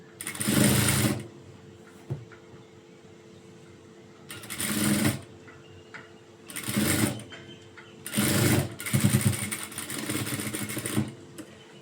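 A sewing machine stitches a blouse sleeve in several bursts of rapid mechanical whirring, each run a second or two long, separated by short pauses, close and clear with no talking.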